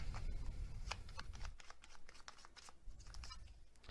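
A deck of tarot cards being shuffled by hand, giving a run of quick, crisp riffling and flicking bursts at close range, with a low rumble underneath in the first half.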